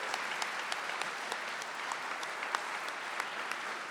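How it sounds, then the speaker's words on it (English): Gala guests at a housing charity fundraiser applaud the event sponsors with sustained, evenly spread clapping that sounds soft and somewhat distant, with a few sharper individual claps standing out. "let's give them a big round of applause"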